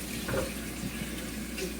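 Food rinsed under a running kitchen tap, a steady close stream of water with small splashes and shifts as it hits the food, no talking.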